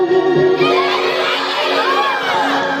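A loud crowd at a Bhim Jayanti celebration cheers and shouts together, with excited high voices and whoops blending into a dense, continuous roar.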